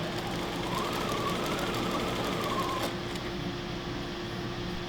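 A sewing machine runs continuously while stitching strap tape pieces for a mask, a steady fast whirring chatter close up that shifts slightly in pitch midway as the pieces keep feeding through.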